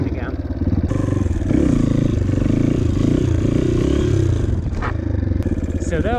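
A dirt bike engine accelerates hard, eases off briefly and climbs again through gear shifts in a steady, loud, close drone, with a rider's voice talking over it.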